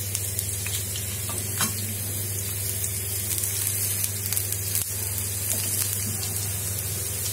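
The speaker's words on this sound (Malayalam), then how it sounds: "എണ്ണ ഒന്ന് ചൂടായി വരുമ്പോ ചെറിയ ഉള്ളി അരിഞ്ഞു വെച്ചേക്കുന്നത് ചേർക്കാം" Chopped shallots fry in hot coconut oil in a pan with a constant close sizzle and faint crackles. An occasional light tick or clink breaks the hiss, and there is no talking.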